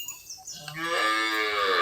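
A single cow moos loudly and nearby on a Tamil village farm, a drawn-out low bellow rising after a few faint background noises.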